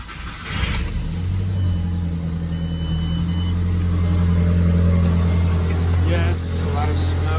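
A 1.8T car engine, oil-soaked and smoking, idles right after a throttle body adaptation, giving a steady, loud, continuous low hum with no changes in revs.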